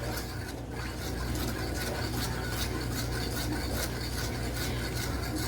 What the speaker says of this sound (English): And we are just gonna continue stirring.